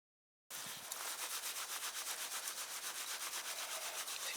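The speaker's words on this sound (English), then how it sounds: "You just rub it between your hands," Dry seed heads gathered in early November are rubbed between the hands, making a steady, close, rhythmic rasping and rustling that runs on its own without any talk.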